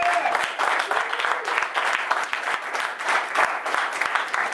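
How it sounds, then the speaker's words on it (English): Sustained applause from a crowd at a YouTube DJ gathering, given for an absent guest speaker: dense, steady clapping that holds at an even level for the full stretch, with no talk over it. "Big round of applause for Brian S. Red."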